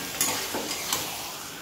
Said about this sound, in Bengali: এবার এই তেলেতে পেঁয়াজ আর টমেটোর সঙ্গে আমি চিকেনটা ভালো করে কষে নেব